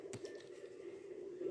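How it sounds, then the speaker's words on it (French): Soft bubbling and squishy liquid sounds from a squid swimming in Splatoon 3, a steady low gurgle with a brief wet splat near the start, fairly faint and with no talk over it. "Je fais des bruits de bulles qui sont remarquables."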